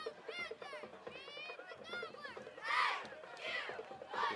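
Cheerleaders and crowd at a high school football playoff game between the Navarro Panthers and Cuero Gobblers chant and cheer in rising, rhythmic group shouts, moderately distant, with voices blending into a lively roar.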